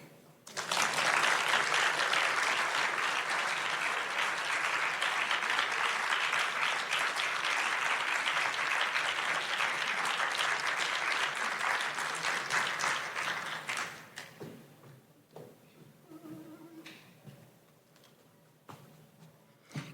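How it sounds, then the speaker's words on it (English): Audience applause at a live storytelling show in a library hall: loud, dense clapping fills the room for about fourteen seconds, then thins to scattered claps and dies away. "Can we give another applause for Chris?"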